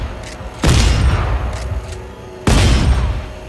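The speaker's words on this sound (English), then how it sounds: "Look how fast my shotgun can shoot." A shotgun fires in the video game Dead Space 3: two loud, booming blasts a couple of seconds apart, each with a sharp attack and a decaying rumble, with quieter game ambience between them.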